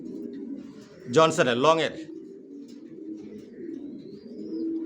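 A pair of original racer pigeons, leg-tagged and vaccinated, coo in a low steady rumble nearby, while a person speaks briefly over them partway through.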